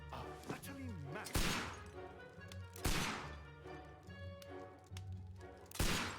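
Holmes firing a revolver in a Sherlock Holmes game: three loud, sharp gunshots spaced roughly one and a half seconds apart, each with a short decaying tail, with a voice speaking between them.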